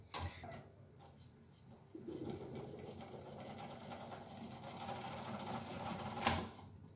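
A reel-to-reel tape recorder rewinding: a steady, faint mechanical whirring hum with a light fluttering texture runs throughout, growing slightly busier midway.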